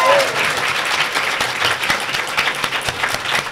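A convention panel audience claps loudly and continuously for a makeup artist. The dense applause holds steady with some crowd voices underneath.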